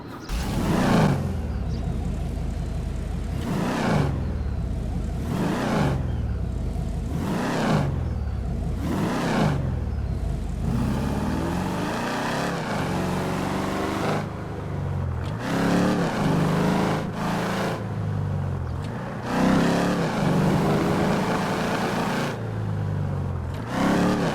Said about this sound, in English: I just love revving this car up.